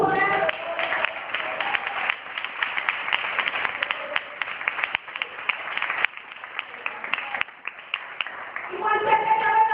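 A church congregation at an evangelical service claps along steadily for several seconds, mixed with voices and singing in the room, swelling louder near the end.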